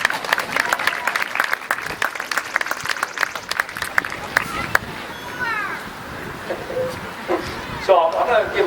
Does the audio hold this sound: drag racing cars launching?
no